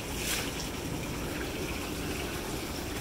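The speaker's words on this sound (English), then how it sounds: "There it has this water feature." Water feature on a Hot Spring Envoy hot tub, a steady, broad rushing and splashing of water that stays constant and fairly close, with no voices.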